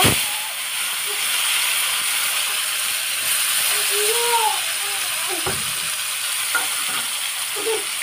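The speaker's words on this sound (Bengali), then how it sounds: "শুকনো লঙ্কা, তেজপাতা, গোটা জিরে আর এলাচ দিয়ে ফোড়ন দিয়ে দিলাম।" Dried chilli, bay leaf, whole cumin and cardamom tempering sizzling in hot oil, a steady bright hiss with a few clinks and scrapes of a utensil in the pan, close and fairly loud.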